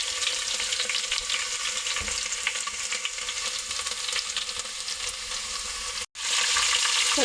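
Mustard seeds and chopped garlic sizzle and crackle steadily in hot oil for a holiday dish, a constant close frying hiss that cuts out briefly near the end, then returns louder.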